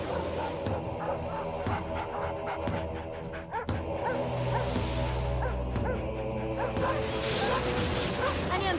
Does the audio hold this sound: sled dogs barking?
yes